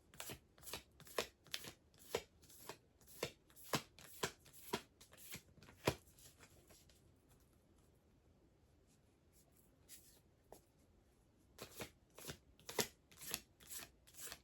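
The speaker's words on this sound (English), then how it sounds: "Just going through each of the individual cards." Tarot-style cards being handled and shuffled close up, a quick run of crisp riffling snaps in a steady rhythm, then a quieter stretch before the shuffling resumes; no voices.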